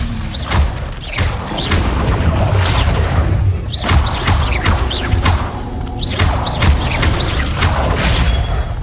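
Spell effects in the Hogwarts Legacy video game come through as repeated whooshes, thuds and booms with swept, sparkling tails. The layered bursts arrive in quick succession and stay loud throughout.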